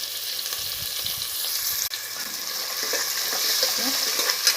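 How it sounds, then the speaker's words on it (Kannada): Chopped onions sizzle and crackle steadily in hot oil with cinnamon and star anise, frying for biryani, with occasional stirring scrapes and a brief stir near the midpoint. "ಹಾಗೆ ಚಕ್ಕರ್ ಮಗ್ಗು, ಸ್ಟಾರ್ ಅನೀಸ್, ಈರುಳ್ಳಿ ಹೆಚ್ಚಿದ್ದು ಆ್ಯಡ್ ಮಾಡ್ತಾಯಿದ್ದೀನಿ. ಸ್ವಲ್ಪ ಚೆನ್ನಾಗಿ ಫ್ರೈ ಆಗಬೇಕು."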